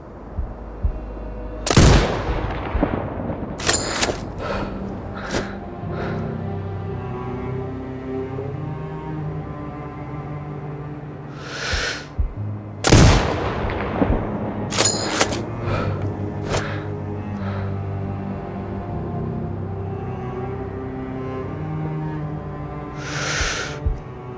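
Sniper rifle fire in Sniper Ghost Warrior Contracts 2, two sharp, loud shots about ten seconds apart, each with a short echoing tail, over steady ambient game music and background rumble.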